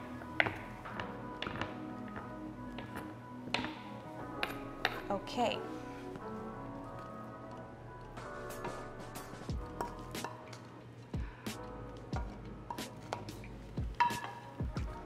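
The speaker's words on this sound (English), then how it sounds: "Let's chop the mozzarella." Mozzarella cheese is chopped with a knife on a cutting board, producing a series of irregular taps and soft thuds throughout, with a brief spoken word in the middle.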